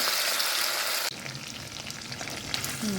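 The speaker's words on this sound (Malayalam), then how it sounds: "ആദ്യം നമുക്കൊരു നല്ല ഹൈ ഫ്ലെയിമിൽ വെച്ചിട്ട് 2 മിനിറ്റ് കഴിഞ്ഞ് നമുക്ക് ലോ ഫ്ലെയിമിൽ വെച്ച് ഫ്രൈ ചെയ്തെടുക്കാം" Chicken pieces frying in hot oil in a pan over high flame, a loud, dense, continuous sizzle that shifts abruptly in tone partway through as the pieces are moved.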